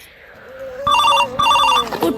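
A telephone rings in two bright, trilling bursts close by, each lasting about half a second, over a low voice-like hum in the background.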